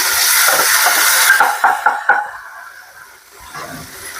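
Chopped tomato goes into a pan of fried onions with mustard seeds and curry leaves for a Kerala taro-stem theeyal, a loud steady sizzle with a few stirring scrapes that fades to a softer hiss.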